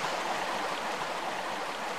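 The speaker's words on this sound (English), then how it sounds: "Let's just let the water take me." Rushing river water in the Peru stage of the video game Tomb Raider, a dense, steady roar of flowing current that stays loud and even for the whole stretch with no voices.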